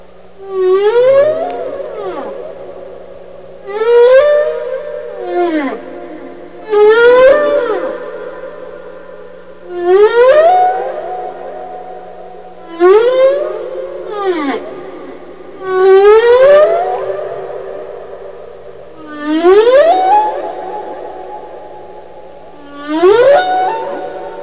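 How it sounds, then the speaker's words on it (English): Humpback whale song recorded underwater: long, rising and sliding moaning tones with bright harmonic upper calls, repeated in phrases roughly every few seconds, loud and close over a steady low hum. "Humpbacks are kind of interesting whales. They have a song that they sing every year, and they change parts of it in following years."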